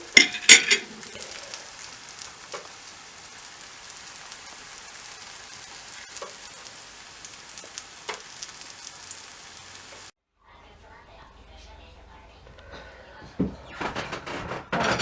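Bananas fry in a pan with a steady crackling sizzle and a few clinks near the start. The sizzle cuts out briefly, then returns.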